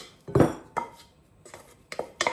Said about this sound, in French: je vais mettre mes poireaux et mes petites carottes bien rissolées dans un saladier